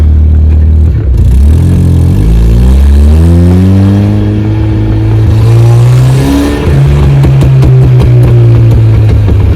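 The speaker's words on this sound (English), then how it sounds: "go ahead and do a little launch here" Turbocharged 1994 Mazda Miata engine revving hard during a launch, loud and close, rising in pitch through the revs, dipping briefly, then climbing again as the car pulls away.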